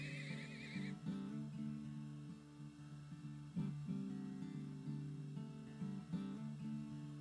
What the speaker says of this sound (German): ich werde noch einen Haufen Pferde brauchen